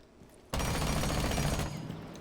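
Automatic rifle fired with a compensator in Rainbow Six Siege, a sudden loud sustained burst of rapid shots lasting about a second, then a fading echoing tail.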